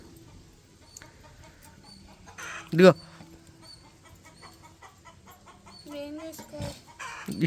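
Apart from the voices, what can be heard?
neighbour's rooster crowing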